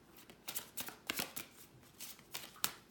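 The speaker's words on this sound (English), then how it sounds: "So I'm going to do 4 more shuffles and then the top card." A deck of tarot cards is shuffled by hand in a quiet room, giving a run of soft riffling bursts in an uneven rhythm, close and faint, with no talking.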